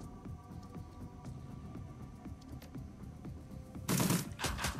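Rapid submachine gun bursts in the Shadowrun: Dragonfall game, a steady stream of crackling shots over a low hum, swelling into a louder, brighter volley near the end.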